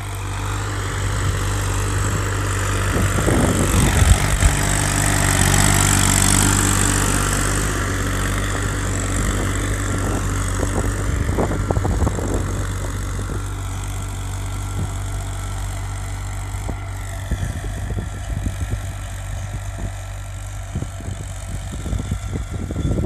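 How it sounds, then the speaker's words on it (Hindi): A 2018 New Holland 3037 39 hp tractor runs with a tiller: a steady, close engine drone with a deep low hum and rattling working noise that continues unbroken throughout, with no talk. "किसान भाई बढ़िया चला रहे ट्रैक्टर"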